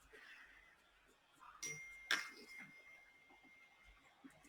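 A mobile phone notification ding during a quiet drawing session, a single brief bright chime standing out against faint background sound.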